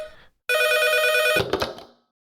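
A telephone bell rings in one loud, continuous burst lasting about a second, then cuts off abruptly into a brief clatter, with no voices over it.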